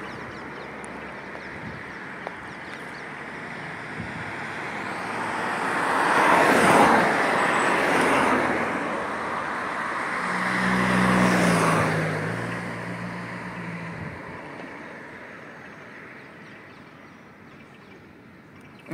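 Fast cars passing on an expressway in Be'ersheva, Israel, two broad whooshing swells rising and fading several seconds apart over a constant roadway hum, with a low engine rumble in between.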